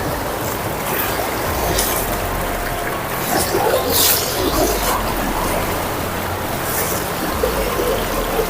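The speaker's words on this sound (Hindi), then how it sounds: "काफी तेज बहाव है यहाँ पर पानी का।" Fast-flowing river water during a crossing, a loud, continuous rushing roar with splashes close by and no talk.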